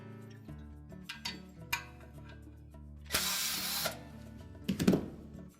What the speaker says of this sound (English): Now we can remove the valve from the mounting bracket by taking these two screws off.